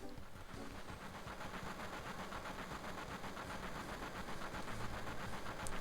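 A train in Final Fantasy VII rumbles steadily with a rhythmic mechanical chugging and clatter, held at a constant moderate level throughout.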